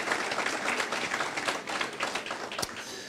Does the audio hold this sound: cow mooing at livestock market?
no